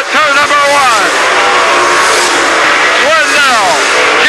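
Race cars roar into turn one on an oval track, their engines loud with sweeping pitch changes as they pass and rev, while an announcer talks over the top.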